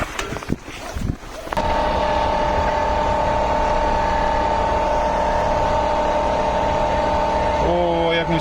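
A car pulls away on an icy, snow-covered road, its engine settling into a loud, steady drone after a few bumps and rustles at the start, with a brief rising tone near the end.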